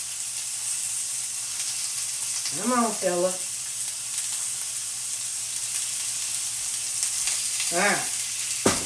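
Chicken pieces sizzle steadily as they fry in a pan, a constant close hiss with someone speaking briefly over it.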